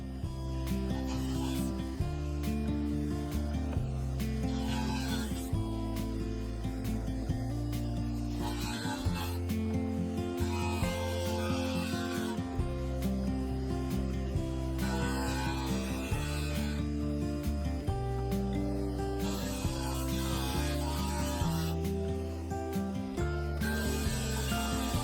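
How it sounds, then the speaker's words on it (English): A drum sander grinds steadily across the top of a cherry wood blank, a continuous loud rasping hum with slight surges as the board feeds through, close and without talk. "So I moved over to the drum sander to sand the top of the blank and get it level."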